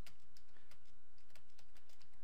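Quick, steady keystrokes on a computer keyboard during practice in the RapidTyping typing tutor, heard as close, crisp clicks in an even rhythm with no talking.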